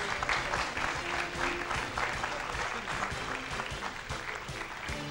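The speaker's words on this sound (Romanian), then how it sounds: "Aplauze pentru a doua familie" Sustained, dense clapping from a large audience, even and continuous throughout with no pauses.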